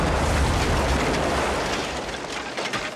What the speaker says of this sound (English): I think you woke up the dead with that blast